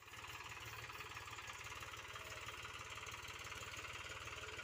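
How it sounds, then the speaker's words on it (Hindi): A tractor engine runs steadily while ploughing a field being prepared for wheat sowing, a continuous rhythmic diesel chugging heard alone at low level. "भैया देखो ट्रैक्टर चला रहे हैं वहीं पे खेत में हकाई कर रहे हैं"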